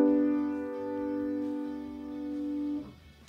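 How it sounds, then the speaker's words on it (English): A chord of three notes played together sustains evenly for almost three seconds before fading out, heard on its own with no talking over it. "three notes playing together, which would sound like this"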